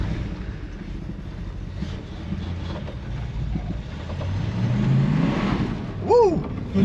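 A car rolls along on a damp road during a test drive on worn, hard tyres, with a steady low engine drone and wind rumble that swells toward the end and a short squeaky chirp near the finish.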